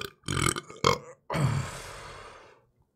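A single loud, close burp arrives in short bursts and then one long drawn-out belch that fades away, with no talking.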